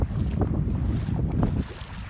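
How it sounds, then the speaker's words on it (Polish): Light wind blows outdoors at a beach, a close, rumbling buffet of wind noise against the microphone with faint surf behind it, and no talk. "tutaj taki lekki wiaterek, który jest wręcz przyjemny"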